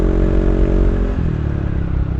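Yamaha Aerox scooter with a worn tire, a steady close engine drone with rattling vibration and a slight shift in tone partway through, no talk.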